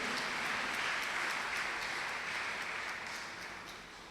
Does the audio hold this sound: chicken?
no